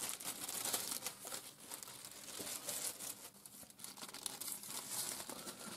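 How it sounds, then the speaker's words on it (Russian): Scissors cutting a slit into a plastic packaging bag, with steady crinkling and rustling of thin plastic close by, soft and continuous with small snips throughout. "Берем вот такой вот упаковочный пакетик и делаем прорезь ножницами примерно до середины."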